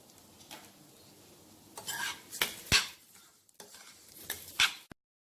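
Bulgur with salt is stirred in a pan, a utensil scraping and clinking against the pan in several short bursts over a faint sizzle, close and fairly loud, ending abruptly.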